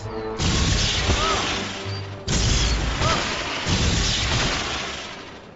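Stupefy spell cast in a Harry Potter video game: several heavy booming blasts, each a sharp loud burst that decays into rumbling, repeated about three times, with brief talk around them.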